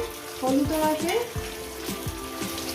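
Taro pieces fry in hot oil seasoned with five-spice. A loud, close sizzle comes with bursts of crackling and spoon scrapes against the pan.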